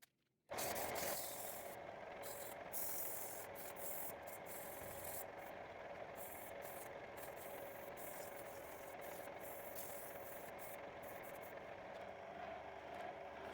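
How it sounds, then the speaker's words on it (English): Wooden scoop being sanded by hand with 120 to 240 grit sandpaper, a continuous rough rubbing hiss with small rhythmic breaks, close and fairly loud, starting after a short silence. "I sand 120 down to about 240 and smooth it right off."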